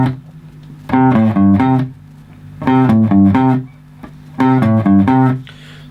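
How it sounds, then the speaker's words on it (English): Motown-style interlude riff played on guitar, three repeated bursts of quick melodic note runs separated by pauses, loud and close, with no talking. "The interlude section has this Motown riff that's doubled by the bass and one of the guitars"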